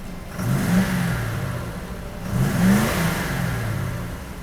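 A Mercedes-Benz W126 500SEL engine revs up twice in quick swells, rising and falling back toward a steady idle, close and fairly loud.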